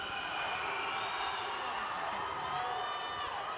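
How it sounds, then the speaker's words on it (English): Steady roar of a crowd at a youth netball match between Botswana and Uganda, dense cheering and shouting that stays constant and loud throughout with no clear pauses. "Don't rise to the crowd noise for Uganda"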